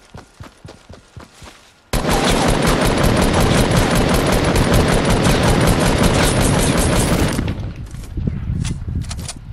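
An automatic weapon in a shooter game lets off a few quick shots, then unloads one long, loud, unbroken spray of rapid fire that runs several seconds before trailing off into scattered shots.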